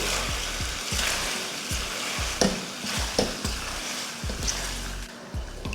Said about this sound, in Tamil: அந்த பாஸ்தாவை இதில் சேர்த்துடலாம். சேர்த்துட்டு இதை கலந்துருவோம்.